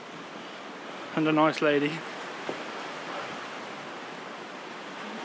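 Ocean waves wash continuously at a hidden sea cave near Sydney, a broad steady roar of surf throughout, with a person briefly speaking near the start and a small knock partway through.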